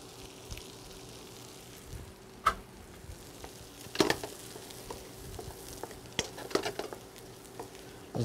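Mushrooms frying in a pan with garlic and shallots, a low steady sizzle with sporadic sharp pops and stirring clicks, fairly quiet and alone.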